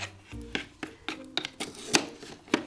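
A toy strawberry is sliced for a pretend smoothie with a toy knife on a hard surface, giving a series of short, close, crisp cutting and tapping clicks in an irregular rhythm with no talking.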